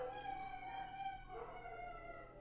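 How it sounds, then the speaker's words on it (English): Dogs howling faintly in the background, a thin drawn-out wavering howl that rises and falls, distant and quiet behind a steady low hum, with no barking distinct. "sorry if you guys hear the dogs"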